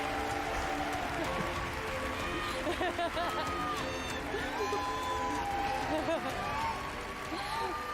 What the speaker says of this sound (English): The fake cheering, I know, it's getting,